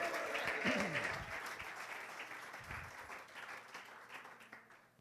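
A church congregation applauds loudly during a sermon, the dense clapping strongest at first and gradually tapering off, with a voice faintly audible beneath it.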